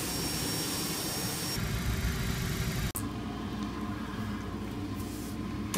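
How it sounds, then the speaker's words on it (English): CRJ-200 hydraulic pumps switching on in a flight simulator, a steady broadband whirring hum that shifts in tone partway through and continues evenly with no talking. "All these hydraulics sounds when you turn them on."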